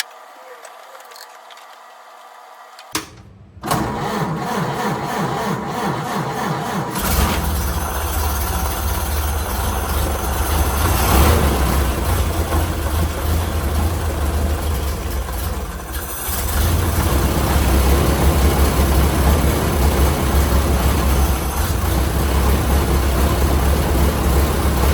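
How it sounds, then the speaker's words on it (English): A late-1931 Ford Model A engine cranks over after a quiet start, catches, and settles into a steady, loud idle with a mechanical clatter and a rise in volume toward the end. "but let me see if I can get it to start."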